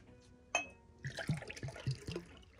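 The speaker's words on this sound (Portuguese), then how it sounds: "Você pegou água quente" Hot water poured into a cup, a short splash followed by a steady trickling fill with small bursts of liquid against the cup, fairly close.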